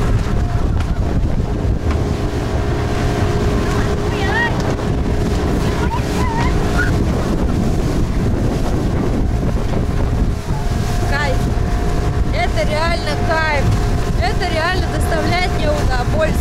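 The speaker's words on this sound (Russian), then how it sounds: "на этой быстрой лодке с одного острова мы приплыли в итоге к острову обезьян" A fast speedboat bounds over sea waves on a trip between islands off Vietnam, its engine roar steady under heavy wind buffeting on the microphone, with people talking throughout.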